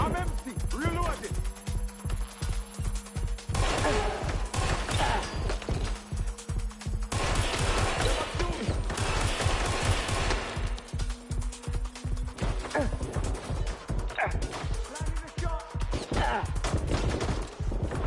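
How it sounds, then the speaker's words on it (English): Dense gunfire from Watch Dogs: Legion online play crackles nonstop, with rapid close automatic bursts and heavy impacts layered over each other. Voices shout over the shooting. "Watch out! Shots fired!"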